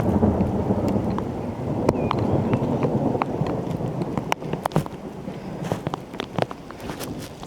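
Thunder rumbling low and heavy through a powerful UK thunderstorm in May, with rain and wind buffeting the microphone, loud and continuous with crackling bursts.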